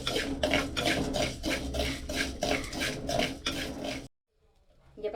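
Salt dry-roasting in a pan and stirred with a utensil, giving a steady run of loud, rhythmic scraping and rasping strokes close by, about two per second, that stop abruptly near the end before faint clatter returns.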